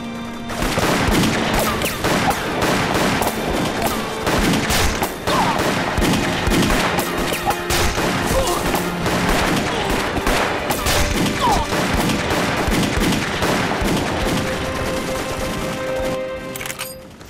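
Gunfire from a battle against Japanese troops rattles on without letup, with dense bursts of rifle and machine-gun shots loud and close, broken only by short pauses.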